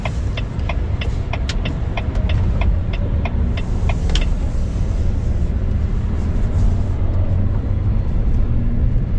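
A Volvo VNR electric 4x2 truck drives along with a steady loud rumble of road and motor noise, a few clicks and ticks early on, no voices.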